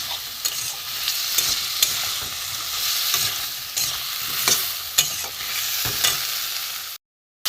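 Crab curry masala with potatoes sautéed and stirred in a pan, a steady sizzle broken by repeated spoon scrapes and clinks, ending in a sudden drop to silence near the end.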